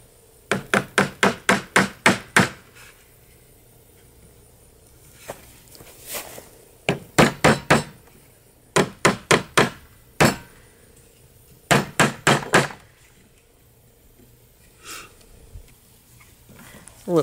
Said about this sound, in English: I have to tap that in with a hammer a little bit more.